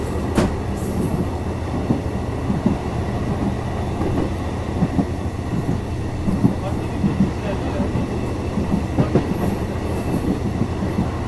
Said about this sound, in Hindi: रफ्तार तो बड़ी मुनासिब सी है, लेकिन बहरहाल एक इंटरनेशनल ट्रेन है।